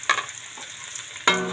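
Garlic drops into a hot frying pan with onion already cooking, making short bright sizzling bursts and a louder, sustained sizzle toward the end, close and clear with no talking.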